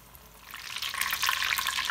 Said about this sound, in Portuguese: Agora vou começar a fritar nosso salgado de presunto e mussarela.